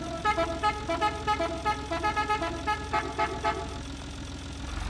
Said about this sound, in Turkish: bakayım o korna duruyor mu ya